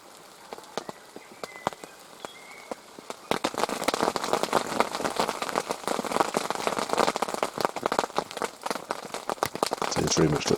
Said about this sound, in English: Sounds very much like there's some rain coming off the leaves and hitting the hide.